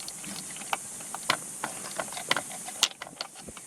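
A ratchet works on a steering wheel bolt of a BMW E92 outdoors, giving sparse, close, crisp clicks and small metallic ticks over faint background hiss.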